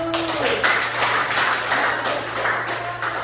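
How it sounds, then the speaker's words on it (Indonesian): A class claps hands together during a micro-teaching lesson on Pancasila moral and values education, a dense, steady patter of many claps over a low room hum, with voices mixed in. "kasih tepuk tangan dulu"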